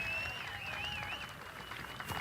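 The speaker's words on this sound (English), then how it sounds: "And so I want you to give a round of applause." Crowd applause with whistling at an outdoor Re-Open Idaho political rally: a steady, dense wash of clapping and cheering that holds at an even level throughout.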